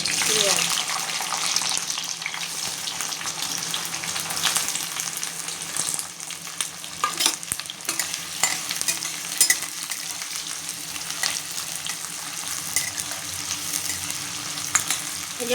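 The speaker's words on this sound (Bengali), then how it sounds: "এই যে ভালো করে ভুনতে হবে।" Onions with green chillies frying in a pan make a steady loud sizzle, with bursts of crackle and occasional scraping and knocking of a spoon while stirring, and no talking.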